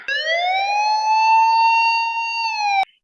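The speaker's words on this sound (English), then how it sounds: "Sirens on, let's roll." A single sustained police siren wail, loud and clear, holding a steady tone for about three seconds before cutting off abruptly.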